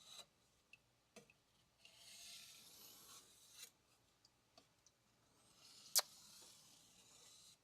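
A knife blade is stroked across an inexpensive Japanese whetstone in faint, rasping scrapes, with a few soft clicks and taps between the strokes.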